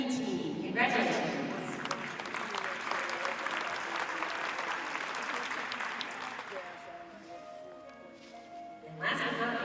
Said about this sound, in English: Let's have a round of applause for our champion Red and White